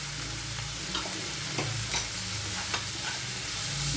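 Ginger, green chilli, salt and turmeric being sautéed in a pan for Bengali-style moong dal tadka, a continuous close sizzle with repeated stirring scrapes at irregular intervals.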